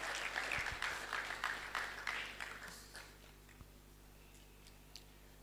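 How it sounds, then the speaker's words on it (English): Applause after an opening prayer at the launch of an arts and culture exhibition, a short round of clapping that tapers away over a few seconds, leaving only scattered taps over a low steady hum. "Please let's give her a round of applause once again."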